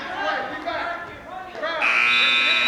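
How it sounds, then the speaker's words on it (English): Buzzer ending a high school varsity wrestling match blares loudly and steadily in a gym, cutting in after crowd noise and shouting voices. "And there's the buzzer to bring this one to a close"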